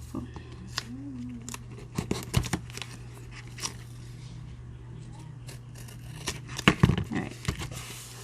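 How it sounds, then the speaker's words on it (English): Scissors snipping paper while binding a handmade journal, a few quiet scattered cuts and rustles, close by, with occasional brief talk. "I need longer scissors, that would be helpful."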